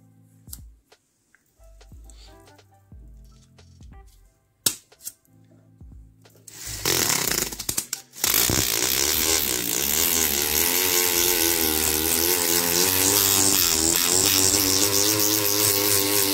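A rotary tool fitted with 1500-grit sandpaper polishes the inside of a ring. Scattered soft ticks and clicks come first, then a loud, steady, buzzing whine runs on without pause.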